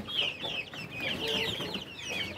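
Rhode Island Red breeder hens clucking in a farm pen, a steady run of overlapping clucks and soft calls from several birds close by, with no talk over them.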